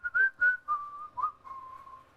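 A person whistles a short series of clear notes, a few quick chirps followed by a longer sustained tone that fades out, close and alone with no talking.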